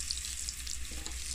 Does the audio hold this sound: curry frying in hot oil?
yes